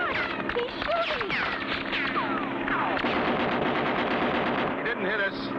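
Gunfire in a 1960 vintage color cartoon about bush pilots: rapid machine-gun rattling runs steadily throughout, mixed with whistling swoops and cartoon sound effects, under lively background music.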